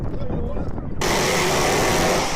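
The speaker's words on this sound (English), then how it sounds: "And number 3 we have the F-16 Strafe Sound." Brief talk, then an F-16 fighter jet's strafing gunfire cuts in suddenly as one continuous, harsh, tearing roar that fills the rest of the moment at high volume.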